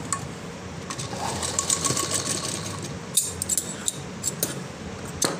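A sewing machine stitches the seam of a floral frock with a close mechanical whir, broken by sharp clicks and clacks as the fabric is handled.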